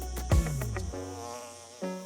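Insects buzzing among crop flowers in a field, mostly bees, a steady layered drone with a few louder close passes near the start and end, no voices.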